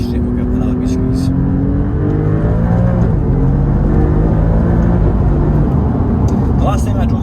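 An Alfa Romeo Giulia Quadrifoglio engine climbs in pitch through its gears from inside the cabin, a loud rising drone with road noise and a person talking over it.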